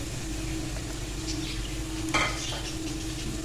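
Flour roasting with softened onions in a pan gives a steady low sizzle and stirring scrape, with one brief louder scrape midway.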